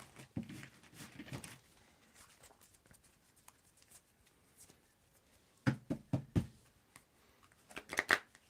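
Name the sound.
shuffling tarot cards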